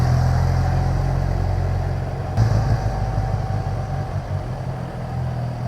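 A 2015 Kawasaki Ninja ZX10R motorcycle idling nearby with a steady low engine drone, which shifts and roughens partway through before settling again.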